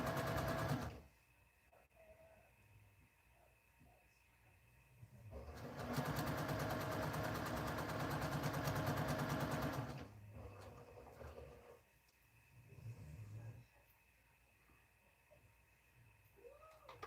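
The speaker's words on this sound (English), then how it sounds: "now I can take this one and sew it on top of that one." Sewing machine stitching quilt pieces together for a friendship quilt, a steady loud whirring run of about four seconds in the middle, with quieter handling noises and brief softer machine bursts before and after.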